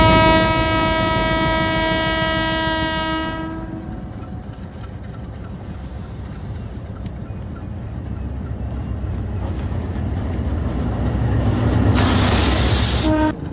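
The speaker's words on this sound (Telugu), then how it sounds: "సో రిటర్న్ ట్రైన్ వచ్చింది." A train pulls into a railway station in Sri Lanka, its horn blaring loudly for about three seconds before giving way to a steady rumble of rolling carriages, with a hissing surge building near the end. No one speaks.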